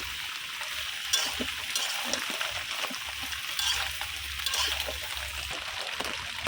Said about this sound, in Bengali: আমি সিমগুলা দিয়ে এখন এই যে মশলার সাথে মিশিয়ে নেব